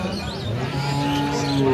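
A large cow moos at a big cattle market in Rajshahi, one sustained, fairly close low bellow lasting under two seconds over faint market noise.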